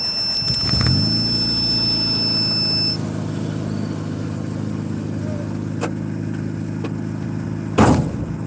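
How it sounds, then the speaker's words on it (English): A car engine catches and settles into a steady, close idle that drones on throughout, with a few brief knocks and clatters over the running motor. "I'm trying to start my car"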